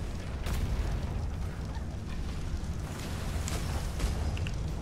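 Spike shots fired from a ship's cannon hit their target during a sea battle in Atlas, a continuous rumbling barrage with repeated muffled booms and crackling bursts at steady loudness.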